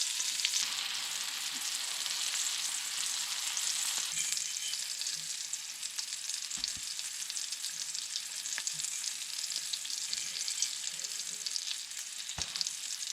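Sardines fry in a pan with a steady, fairly quiet crackling sizzle, broken now and then by sharp pops and clicks.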